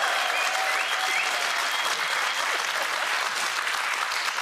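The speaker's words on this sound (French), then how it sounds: "On peut applaudir Alice quand même pour cette performance." A TV game show studio audience applauds in a continuous, bright burst of many hands, holding an even loudness from start to finish with no speech over it.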